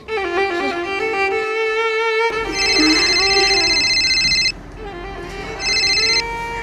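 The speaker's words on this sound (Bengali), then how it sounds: "সাকিবকে একটা ফোন দিয়ে" A phone rings with an incoming call in a Bangla drama scene. A loud, close electronic ringtone plays a bright repeating melody in bursts with short gaps, and no one speaks.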